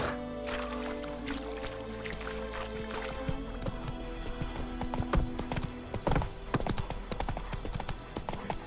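Horse Roach running in The Witcher 3: Wild Hunt, a rhythmic clip-clop of hooves at a steady gallop with occasional louder thuds, over faint game ambience and no voices.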